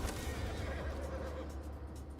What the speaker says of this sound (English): I have this purple horse.